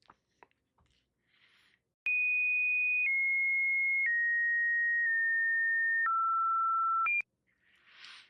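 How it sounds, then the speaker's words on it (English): A run of steady electronic tones, each held about a second and stepping down in pitch before a short higher blip, fills the middle of the clip, with faint clicks and static hiss before and after. "The audio is often a series of beeps, clicks, or static noises, sometimes resembling dial tones or electronic signals."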